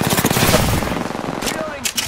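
Automatic weapon fire in the Apex Legends video game comes in a dense, loud burst that thins into a few separate shots, with a game voice speaking over it near the end.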